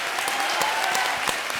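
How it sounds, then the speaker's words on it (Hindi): Loud, dense applause fills a comedy show studio audience, continuous hand clapping with individual sharp claps standing out through the roar. "जोरदार तालियां।"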